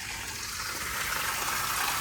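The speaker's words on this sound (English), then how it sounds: "Sounds like a waterfall" Flowing water like a small waterfall near a home in the Bukit Tunku neighborhood of Malaysia makes a continuous broadband rush of moderate loudness. It swells slightly over the two seconds, with no voices present.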